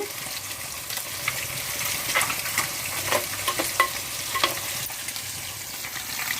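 Pieces of fish simmer and sizzle steadily in a pan of fish curry, a close, continuous bubbling hiss with occasional soft stirring pops.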